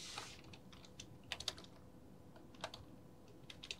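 Keystrokes on a computer keyboard during graphic-design text editing, scattered irregular clicks with a few small bursts of taps, fairly quiet and close, with no talking.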